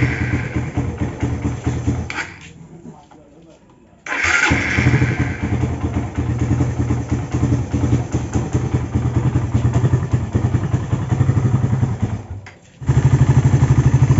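Suzuki Satria FU motorcycle with a first-generation carburetor and oversize Tiger piston, engine running loud and close, cutting out briefly, then restarting and revving back to a steady clattering idle, no talking.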